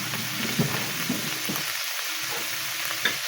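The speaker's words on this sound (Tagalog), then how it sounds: "tapos na ako nagprito ng galonggong" Galunggong fish fry in a pan with a steady, close hiss of oil, dotted with soft pops and crackles throughout, and no talk.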